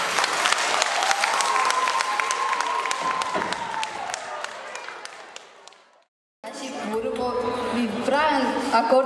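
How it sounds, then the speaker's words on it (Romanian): An audience applauds at a school freshman ball at a technical college in Aiud, Romania, in 2018. The dense clapping comes with crowd chatter and some tonal sound, fades and cuts out, then a noisy hall with voices resumes. "Se aplaudăm încă o dată!"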